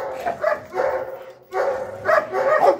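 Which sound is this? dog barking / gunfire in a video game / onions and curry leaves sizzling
dog barking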